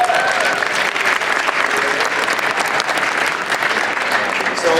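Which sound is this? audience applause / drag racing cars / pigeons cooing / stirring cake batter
audience applause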